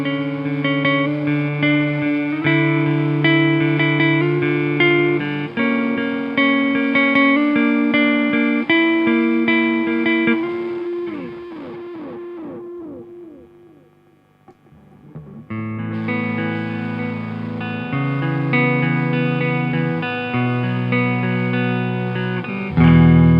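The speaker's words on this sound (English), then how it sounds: "I've got a dark triad overdrive in the effects loop right now." Electric guitar through a delay pedal with a Dark Triad overdrive in the effects loop, playing sustained distorted chords with echoing repeats that trail off into near silence before the chords return loudly.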